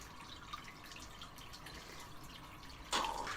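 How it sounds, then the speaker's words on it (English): Hot water running from a kitchen tap during dishwashing, a steady trickling stream with drips, then a sudden louder splash near the end as the flow hits something. "Turn on that hot water."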